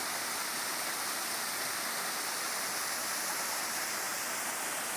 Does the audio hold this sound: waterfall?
yes